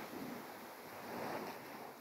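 Sea waves wash onto the shore in the evening, a soft, steady rushing surf that swells gently, heard faintly with light wind noise and no voices.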